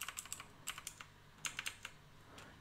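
Keys clack on a computer keyboard in quick irregular bursts of typing, close and fairly quiet, with brief pauses between clusters of strokes and no talking.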